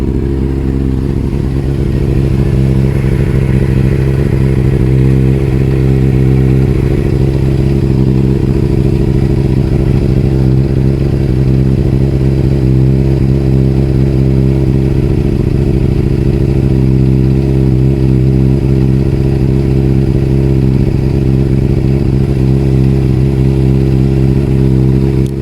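Triumph TT600 motorcycle engine idling steadily in a garage, a loud, close, continuous mechanical drone with a rough clattering texture that holds throughout without revving, no voices.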